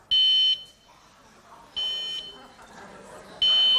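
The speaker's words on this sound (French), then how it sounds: "C'est une alarme." A bicycle anti-theft alarm gives three loud, shrill electronic bursts with pauses between them, and faint voices chatter in the gaps.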